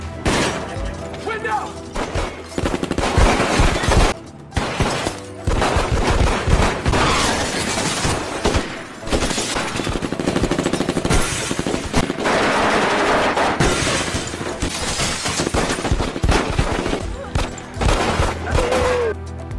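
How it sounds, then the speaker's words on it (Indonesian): Heavy gunfire from a film shootout during an arrest operation: sustained bursts of automatic fire and shots, loud and dense throughout, mixed with crashes and breaking sounds. "Marcus dan Chris terlibat adu kontak senjata"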